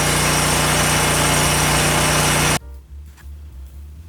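A house generator engine runs loud and close with a steady droning hum for a few seconds, then cuts out abruptly, leaving low rumble and faint clatter.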